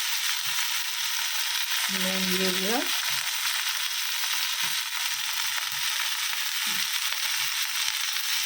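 Ginger and cumin paste frying in a pan over a steady broadband sizzle, with a brief voice line partway through and a few soft clinks of stirring.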